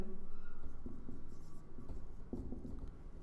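Writing out a math equation by hand, a quiet close pen or chalk scratching in short strokes and taps over low background hum.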